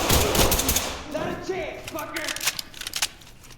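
Rapid gunfire bursts ring out in a multiplayer shooter video game during a house-clearing mission, loud and close, with players talking over the shots.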